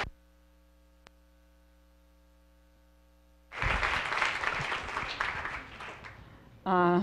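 Lecture audience applauding to welcome a professor after a quiet humming pause, a full burst of clapping that goes on for about three seconds and tapers slightly before a voice starts to speak.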